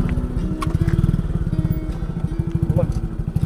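A motorcycle engine idles and runs nearby with a steady, rapid pulsing putter throughout, loud and close, while people talk over it.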